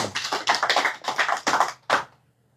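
Audience at an Indonesian taklim gathering clapping in unison, a fast patterned run of crisp, close claps ending with one final louder clap before quiet.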